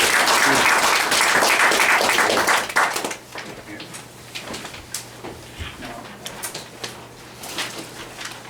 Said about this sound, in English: if we could just give her a hand of applause